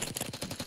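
Dual Jackal guns in Black Ops 6 fire a rapid burst of a dozen or so sharp, closely spaced shots, loud and alone.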